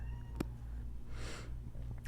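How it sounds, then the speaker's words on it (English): A cat lets out a single short meow partway through, fairly soft against a low background hum, with no talking. "Cats."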